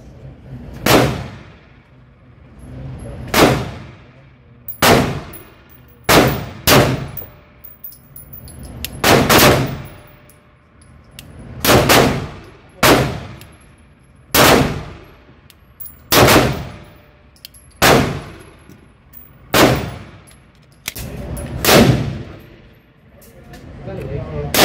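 A newly built SCT19 compact frame handgun fired round after round, a dozen or so loud sharp shots spaced a second or two apart, some in close pairs, each with a short decaying ring.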